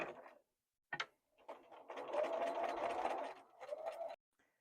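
A sewing machine stitches across a fabric triangle on a quilt block, a Louisiana state block cut with an Accuquilt die, in short quiet bursts that settle into a steadier run of stitching for a couple of seconds.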